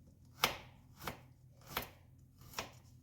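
Four evenly spaced knife chops through garlic on a cutting board, each a sharp, close thud with quiet pauses between, no talking.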